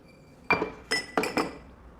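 Glass cups clink against each other as they are lifted out of a dishwasher, four sharp ringing knocks, one then a pair close together and another, nearby and moderately loud in a quiet kitchen.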